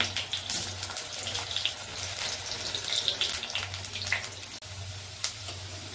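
Potatoes frying in a pan for a Bengali chicken curry give a steady hissing sizzle, broad and continuous with faint crackles, close and alone without talk.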